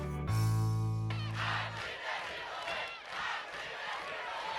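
A crowd cheers and roars at a Hamline Piper Pit athletics event, loud at first with a sustained shout, then a broad, steady wash of cheering.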